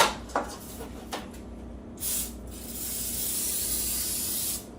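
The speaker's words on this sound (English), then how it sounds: "So you want to spray" Short hissing bursts of an aerosol cooking spray, then one long steady spray lasting a few seconds, close and clear after a few soft knocks.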